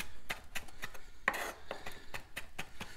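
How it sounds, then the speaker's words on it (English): Repeated knife chops on a cutting board while preparing ingredients for a fried tuna melt, a steady run of sharp, close taps at a quick irregular rhythm, heard alone. "now mix those all together and chop them all up"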